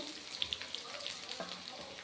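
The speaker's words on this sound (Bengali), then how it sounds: "এবার একটু ভেজে নেব বলতে হলুদ গুঁড়োটা দিয়ে দিলাম" Turmeric powder and ground spices with potatoes frying in a pan for a thin katla fish curry, giving a faint, low hiss with a few small crackles and pops.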